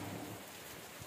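Rain falling at a highland resort in Marilog, a steady dense hiss of drops, close and fairly loud, with no talk.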